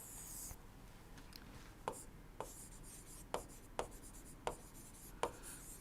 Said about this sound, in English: So, let me write over here.